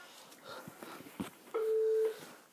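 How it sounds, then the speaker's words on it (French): A short steady electronic telephone tone during a call, preceded by faint clicks and line noise, clear and alone with no talking over it. "Désolé pour le téléphone."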